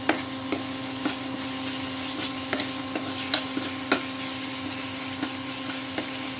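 Spice paste frying in a pan for a dim baati egg curry, with a soft sizzle beneath repeated sharp scrapes and taps of a spoon stirring at an uneven rhythm, plus a steady background hum.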